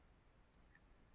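Computer mouse clicks during Photoshop photo editing, two quick close clicks, fairly crisp against a quiet room.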